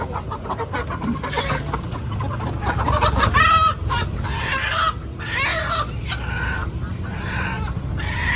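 Country chickens clucking and squawking close by at a sale, several birds calling over each other in an agitated burst, with a louder squawk in the middle.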